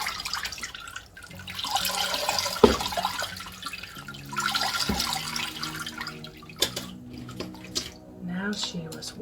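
Water poured from a container into a potted orchid indoors, bursts of trickling and splashing pours with short pauses, a voice speaking over part of it.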